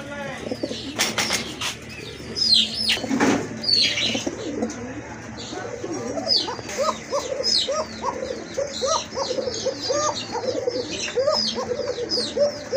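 Pet pigeons in a loft cooing repeatedly in soft rhythmic phrases, mixed with a few chirps and wing flaps at the start and a brief distant voice.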